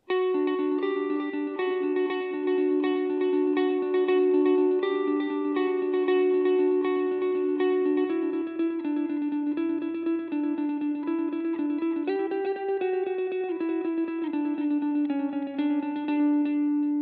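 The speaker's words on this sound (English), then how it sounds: "You can get the chimey, glassy, single coil neck pickup vibes of the Stratocaster on the Tele, especially with a lot of delay and a lot of reverb." A Telecaster neck single-coil pickup plays a clean, chimey melody soaked in delay and reverb, its notes ringing and echoing continuously with no talking.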